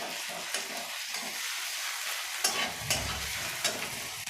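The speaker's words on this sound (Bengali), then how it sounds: "রসুনটা দিয়ে আবার আমি নাড়তে থাকবো।" Crushed garlic frying in a pan, stirred continuously: a steady sizzle with scraping spoon strokes and a few louder clacks against the pan.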